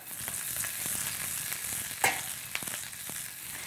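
Food frying in a non-stick pan, left undisturbed to brown and crisp, with a steady close sizzle throughout and a few sharp pops and crackles breaking through, no voices.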